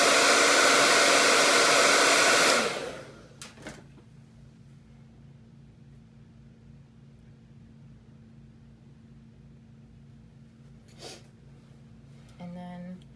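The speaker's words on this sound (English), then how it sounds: "I'm just gonna hit this one more time with the blow dryer" A blow dryer roars loudly for about three seconds, then cuts off, leaving quiet room noise with a few faint clicks and knocks.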